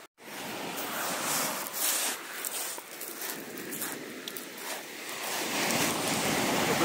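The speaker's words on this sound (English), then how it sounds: "Got this little wave." Sea waves break steadily on a beach where people are fishing for whiting, giving a continuous loud wash of surf that swells and fades without pause.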